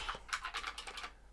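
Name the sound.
typing on a clicky IBM Model M keyboard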